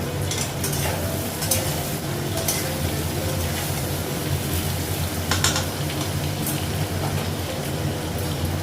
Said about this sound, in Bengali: আলু আর পেঁয়াজটা একসঙ্গে ভেজে নেবো